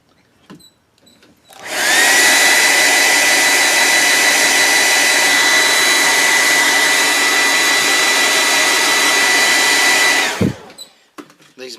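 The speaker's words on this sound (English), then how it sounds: "Let's hit that with a hairdryer just a bit." A hair dryer blows over fresh paint on a colorshift popper fishing lure, switching on sharply and holding a loud, steady whine with an airy rush for about eight seconds before cutting off.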